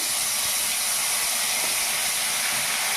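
Steady, loud sizzling hiss of ground onion, ginger and garlic paste frying in hot oil in a wok, continuous and even with no pauses or voices.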